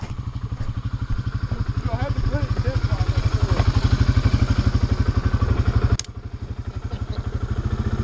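CFMoto 500 quad ATV engine running in mud, a steady close, loud throbbing putter with a sharp clatter near the end, as a voice talks over it.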